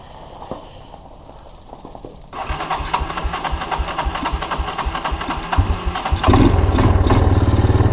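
A barn-find Yamaha Moto4 ATV with a new clone carburetor that seems to be flooding is started cold, choke off: a quiet stretch, then cranking catches into a loud, steady rough idle that grows louder and fuller near the end.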